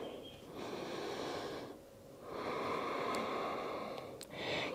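Slow, audible breaths drawn in and let out through the nose while holding a yoga pose in a vinyasa class, two long airy cycles close to the microphone and steady, with no talking.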